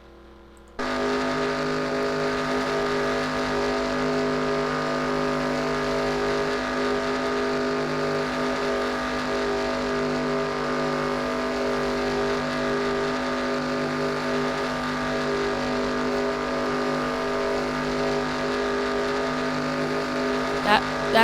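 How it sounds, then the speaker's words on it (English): A pack of race cars roars around the track in a retro-series Daytona 500 racing video game, a steady loud engine drone with layered whining tones that holds unbroken for about twenty seconds. "That pack of cars behind him is catching him, and they're very fast."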